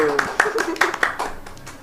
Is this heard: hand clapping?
yes